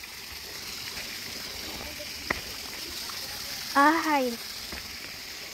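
River current rushes steadily through the rocky Shek Fan Tam pool near Fanling, Hong Kong, a constant broad hiss of flowing water with a brief voiced exclamation over it.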